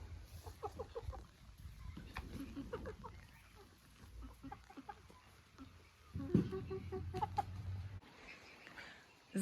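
Faverolles hens in a pen make soft repeated clucks and murmurs, close and fairly quiet, with occasional louder calls and scuffling over a low background hum.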